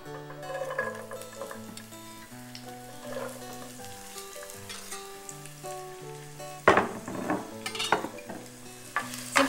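Onion and garlic sizzling in a little olive oil in a pan, a steady close crackle running under soft background music, with louder bursts of spitting toward the end.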